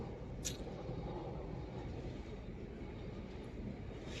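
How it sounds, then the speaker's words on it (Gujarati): Low continuous rumble of a train rolling past a closed railway level crossing, steady throughout, with a brief high squeal near the start. "અહીંયા રેલવે આવી છે"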